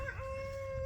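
A farm chicken gives a short call, close and clear, over a low rumble of background noise.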